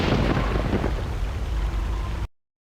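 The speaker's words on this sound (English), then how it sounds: "this planet sounds so beautiful with the rain and the thunder" Steady rain hisses loudly with a deep rumbling of thunder underneath in the video game Knights of the Old Republic 2, cutting off suddenly after a couple of seconds.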